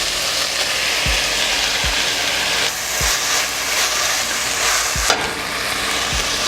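Peppers fry in oil with softened onions, a close, steady sizzle with several low thumps of a spoon against the pot as they are stirred.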